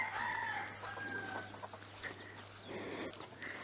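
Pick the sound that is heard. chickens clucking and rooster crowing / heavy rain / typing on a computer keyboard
chickens clucking and rooster crowing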